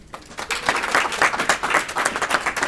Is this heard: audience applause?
yes